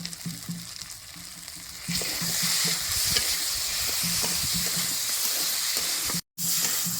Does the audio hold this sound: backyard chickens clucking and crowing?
no